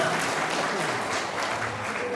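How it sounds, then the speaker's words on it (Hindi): Applause from an audience at a Birsa Munda 150th birth anniversary celebration, honoring a children's dance performance: steady, dense clapping of a large crowd lasting throughout at even loudness. "इसलिए जोरदार तालियां जोरों के साथ तालियां बजाए"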